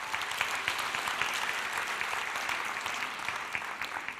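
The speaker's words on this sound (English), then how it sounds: "Give yourselves a round of applause," Steady audience applause fills a fundraising event for a performing arts show, a dense, continuous wash of many hands clapping at close range with no talk over it.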